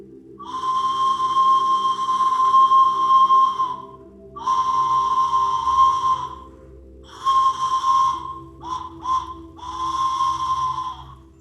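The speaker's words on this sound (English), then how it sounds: "Even something as simple as this child's train whistle. It's beautiful. It's wood." A breathy wooden toy train whistle blown in several long, airy blasts, then a few quick short toots before a final long blow, close and clear.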